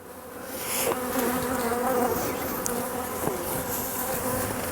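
Honeybees buzz loudly and continuously at close range as a beehive full of brood is opened and handled, a dense droning swarm sound with no voices over it.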